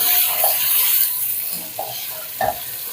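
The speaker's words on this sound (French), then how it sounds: "L'huile est chaude, donc je mets à revenir l'ail et les oignons." Garlic and onions frying in hot oil give a bright, continuous sizzle, broken by a few short stirring scrapes and soft utensil knocks close by.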